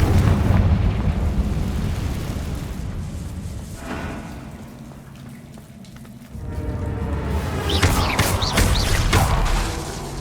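Confringo blasting spell detonating in Hogwarts Legacy, a loud, rumbling explosive boom filling the space, with a second fiery burst swelling up toward the end.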